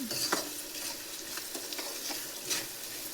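MTR puliyogare paste is stirred and fried in oil, a soft continuous sizzle under repeated close scrapes of a spoon against the pan, with no voices.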